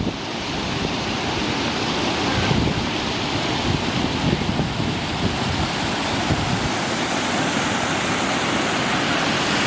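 A small waterfall and mountain stream in Tosh Valley, Himachal Pradesh, give a steady, loud broadband rush of flowing water throughout, with no voices.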